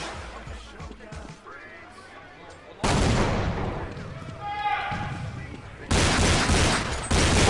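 Loud bursts of pistol gunfire in a pistol round of a Counter-Strike match, with sharp shots and dense crackling volleys at intervals, the last two blocks loudest and sustained, over background crowd noise.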